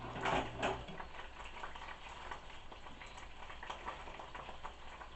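Pork browning in a cazuela for a traditional Bajío-style chile negro stew gives a moderate, even sizzle. A short clatter of the pot comes at the start, and no one speaks.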